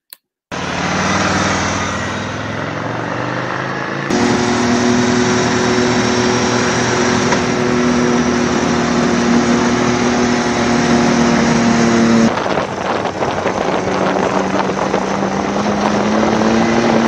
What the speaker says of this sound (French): écouter le bruit tellement caractéristique du moteur d'une Harley